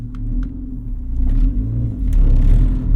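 A track-modified Mk5 GTI with stage 2 clutch and stiff motor mounts rumbles low and steady up close, with faint rattly chatter over the drone as the engine pulls.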